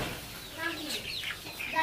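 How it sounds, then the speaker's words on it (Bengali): Chicks and hens on a desi poultry farm cheep and cluck in scattered, faint calls close by, with a voice murmuring in the background. "এক চালানের মুরগির বাচ্চা আপনারা দেখতে থাকুন"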